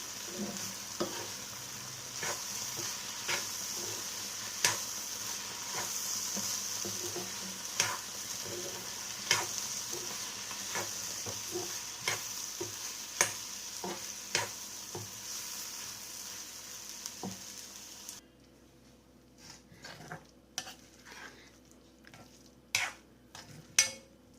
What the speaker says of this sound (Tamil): மசாலா பவுட்ரு எல்லாம் சேர்த்ததுக்கப்புறம் திரும்ப ஒரு 2 நிமிஷம் நம்ம வதக்கினா போதும்